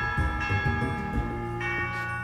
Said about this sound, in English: a chiming phone